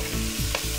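Vegetables and spices with dried fenugreek and tandoori masala being stir-fried in a pan, a short steady sizzle with a soft scrape of stirring partway through, no voices.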